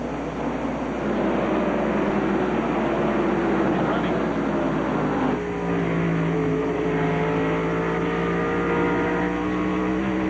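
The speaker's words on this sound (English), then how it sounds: "Camera on top of Earnhardt's Goodrich Chevrolet as he's chasing down Dale Jarrett" Onboard roar of Dale Earnhardt's Goodrich Chevrolet Winston Cup stock car racing at night at Bristol, a loud, sustained engine drone with shifting pitch as it chases another car, continuous throughout with commentary voices over it.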